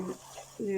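Onion and garlic fry in a pan for rohu fish curry, with a soft sizzle and a brief, close scrape of a spoon against the pan at the end.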